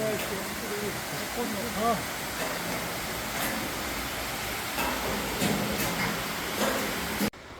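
Waterfall in the Twelve Falls mountain valley, a constant broadband rush of falling water close by, with voices speaking over it.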